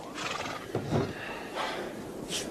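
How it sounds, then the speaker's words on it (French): A horse in a stable whinnies in a few rising, breathy calls at moderate distance, with soft background noise. "Ce cheval, quelqu'un l'a laissé chez le véto à moitié mort de faim."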